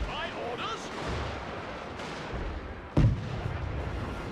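Rifle volleys crack out in a Total War battle of the Anglo-Zulu War at a British fort, several booming reports spaced over a few seconds, the loudest near the end, amid faint voices and battle noise.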